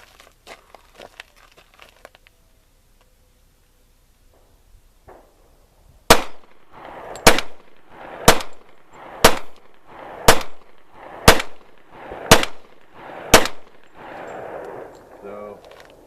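Eight evenly spaced, loud gunshots from a Smith & Wesson M&P .40 pistol firing defensive ammunition outdoors, each crack followed by a short echoing tail, after a quiet stretch with faint talk.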